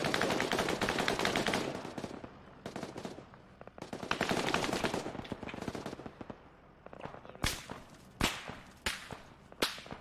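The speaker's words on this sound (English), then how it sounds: "Shots." Gunfire from the Arma 3 military video game fills the scene: dense, loud bursts of automatic fire during a building-clearing assault, then several separate sharp shots toward the end.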